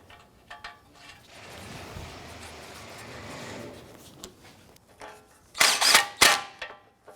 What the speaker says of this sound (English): Let's go ahead and torque down our lower clevis bolt to 47 foot-pounds.